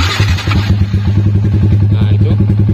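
A Yamaha MX King motorcycle engine starts and settles into a steady, loud, close idle with a fast even pulse, a brief rattle as it catches.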